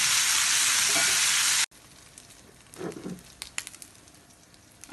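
Shrimp for a Bengali chingri bhuna sizzle loudly in hot oil at first, then the frying cuts off abruptly and gives way to quieter scraping and clinking as the pan is stirred.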